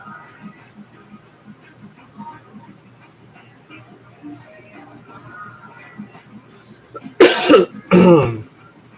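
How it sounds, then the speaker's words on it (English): Two loud, harsh coughs from a man burst out in quick succession near the end, following a quiet stretch of soft murmuring. "Sorry for constantly coughing."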